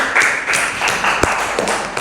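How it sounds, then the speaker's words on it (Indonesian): A seated audience at an Indonesian teacher-training session gives a short burst of clapping, a dense patter of hand claps over two seconds with no voices. "Kasih tepuk tangan."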